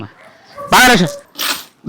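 A police-style trained sniffer dog gives a short burst of whiny yelps and yips, close by, followed by quieter rustling and another brief sound at the end.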